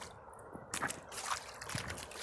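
Rubber boots wade through shallow creek water on a gravel bar along the Rogue River, giving soft squishing and sloshing splashes in an uneven rhythm, close by and moderately quiet, with no talking.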